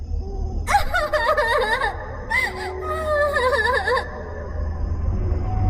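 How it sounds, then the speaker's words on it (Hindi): A girl crying at night in an eerie horror audio drama: a high, wavering voice sobs and wails in rising and falling moans over a low, steady rumbling ambience, close and continuous. "अरे, इतनी रात गए लड़की के रोने की आवाज।"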